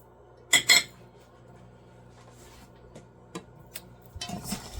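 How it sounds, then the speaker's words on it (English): Granola ingredients including oats, craisins and cinnamon being mixed in a bowl, with a few sharp utensil clinks early on, then quiet scraping and a burst of rustling stirring at the end. "And I'm just going to mix that around here."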